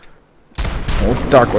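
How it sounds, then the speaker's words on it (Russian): A gauss rifle shot in the Fallout 4 video game, a sudden sharp burst after silence followed by a rumbling tail, with someone speaking briefly over it. "В голову-то из нашей гаусс-винтовки выстрелим."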